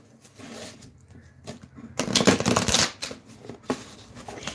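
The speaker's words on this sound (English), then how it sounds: "now we're going to go ahead and shuffle this deck" A deck of oracle cards, Divine Guidance, is shuffled close up, with soft riffling patter that swells into a louder burst of flicking cards before settling into lighter shuffles.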